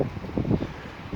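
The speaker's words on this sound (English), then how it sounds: "So wow, incredibly windy." Strong gusty wind buffets an apartment balcony, producing rumbling, uneven blasts of wind noise against the microphone with no voices.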